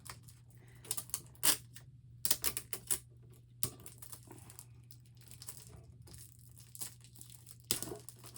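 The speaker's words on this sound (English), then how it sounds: "Tape them corners down." Tape is pulled and pressed down over the corners of a blanket packed tight in a plastic bag, giving scattered crinkling and sharp tearing bursts with quieter rustling between, close up and with no talking.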